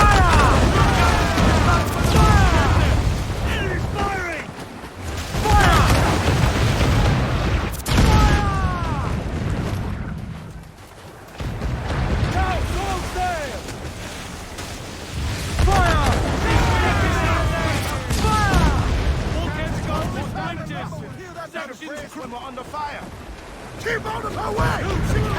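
Cannon fire and explosions in a naval battle in Assassin's Creed IV Black Flag, with heavy booms and rumbling blasts over wind and sea, and crew voices shouting throughout.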